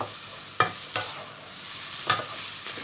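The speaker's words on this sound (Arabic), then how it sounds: "خليهم بحال هكا يتشحروا مزيان" Green and red peppers and a small onion frying in a pan, with a steady soft sizzle broken by a few sharp stirring scrapes, close up with no voices.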